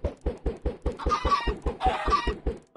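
Chickens cluck in Minecraft, a steady run of short evenly spaced blocky clucks close up, with brighter squawking calls rising over them twice in the middle.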